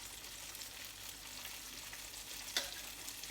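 Fine garlic shavings, capers and chilli frying in a hot pan give a steady, close hiss of sizzling oil, with a brief sharper crackle partway through.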